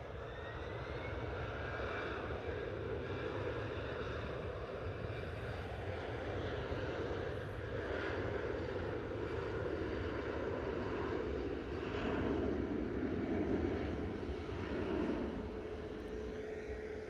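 An easyJet airliner starting its takeoff roll at Liverpool Airport, jet engines giving a steady distant roar that holds for the whole stretch and swells slightly near the end.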